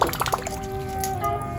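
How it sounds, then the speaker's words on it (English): A Whopper Plopper lure is tugged through trough water, giving a few quick wet plops up front and then a trailing bubbly gurgle, close and fairly loud. "When you pull it, obviously has a plopping action."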